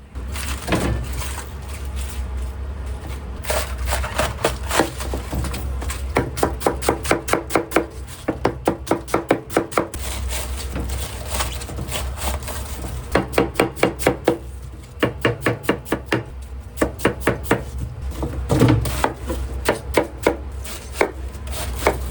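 A knife chops cabbage for fried noodles in a long run of quick, rhythmic cuts on a board, coming in bursts with brief pauses, close and fairly loud over a steady kitchen hum.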